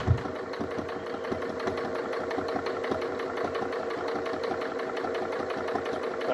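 A sewing machine stitches a cloth armor plate, running continuously with a fast, even mechanical chatter from start to finish and no talking.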